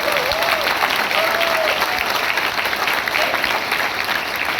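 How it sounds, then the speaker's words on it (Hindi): Loud, sustained applause from a large audience at a direct-selling leaders' event fills the whole stretch at an even level, with faint voices rising through it. "तालियां जरा जोर से बजाइए"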